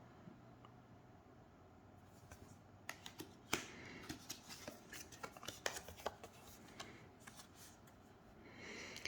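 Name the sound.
shuffling tarot cards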